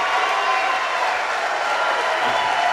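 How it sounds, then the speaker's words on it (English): A crowd at a political candidacy announcement cheers and applauds, producing a steady wash of noise with no breaks, heard at a distance and somewhat muffled. "Is that all cheering or?"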